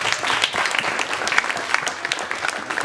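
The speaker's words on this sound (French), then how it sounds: "je pense qu'on peut l'applaudir alors" Audience applause at a French science event, steady dense clapping from a crowd, fairly loud and continuous for the whole stretch.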